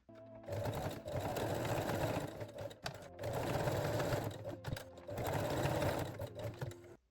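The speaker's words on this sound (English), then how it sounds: "lock or backstitch all seams with the straight stitch" A sewing machine runs a straight stitch in three sustained bursts, backstitching seams with brief pauses between, close, steady and mechanical with no talking.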